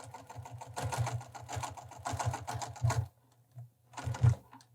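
A sewing machine stitches over thick pant hem seams in rapid rhythmic bursts of close mechanical clatter, pausing briefly before a final short run, with no voices.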